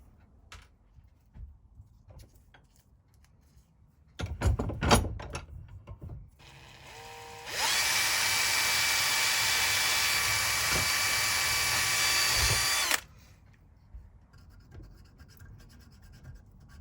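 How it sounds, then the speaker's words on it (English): A few clicks and taps, then a high-pitched electric drill whirs steadily for about five seconds, drilling a small hole in a retro clock, before stopping, followed by quiet handling noises. "drill a little hole, put a bit of wire on instead"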